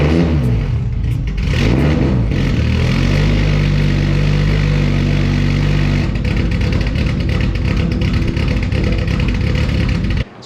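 A Nissan S14 engine on a cold start, cranking and catching into a loud, close idle, then revving up and settling into a rough, steady, high-pitched running note.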